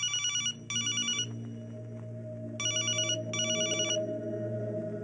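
A telephone rings unanswered in a comedy film scene: two pairs of sharp, loud electronic trilling bursts with a pause between them, over a steady low hum.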